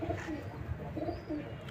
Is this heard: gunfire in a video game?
no